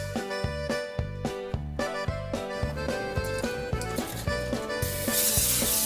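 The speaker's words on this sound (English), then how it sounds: "I use olive oil spray on the pan so that the chicken does not stick." A short burst of olive oil cooking spray hisses onto a pan near the end, over steady rhythmic background music.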